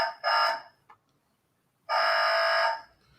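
A bell buzzer fitted to a Routemaster model bus kit gives two electronic buzzes, a short one and then a longer steady tone, loud and close, separated by a quiet gap.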